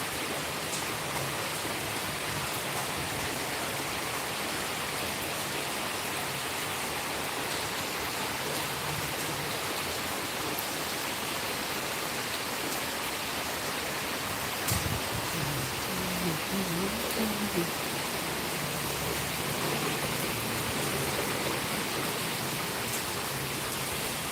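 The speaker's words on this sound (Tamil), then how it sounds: "இப்படி மழை பெய்யுது பாருங்கள்" Heavy rain pouring steadily in a town street, a dense, even hiss that holds throughout, with a faint voice murmuring briefly midway.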